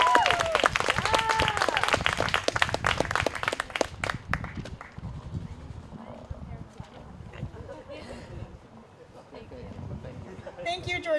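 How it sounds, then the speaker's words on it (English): An audience applauds a speaker at a Race Amity Day event, loud clapping in the first few seconds that thins out, while a voice speaks over it and continues after. "Can we have another round of applause, please, for Jordan?"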